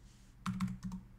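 Light keystrokes on a computer keyboard while entering a website address into a help form, a few quick taps in two short bursts, close and quiet with no talking.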